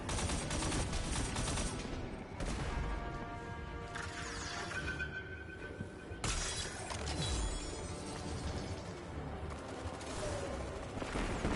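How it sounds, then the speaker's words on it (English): Destiny 2 Onslaught game combat, with a constant loud barrage of gunfire, explosions and shattering impacts layered over a dense mechanical background, unbroken for the whole stretch. "Everything exploding."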